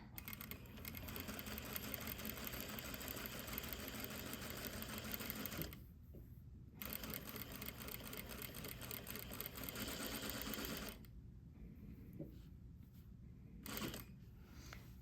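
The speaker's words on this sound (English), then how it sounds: "I will start with the back stitch and go out." Sewing machine back-stitching a French dart, a steady rapid mechanical whir that runs continuously, stops briefly, resumes, then halts again with quieter handling afterward, close and fairly faint.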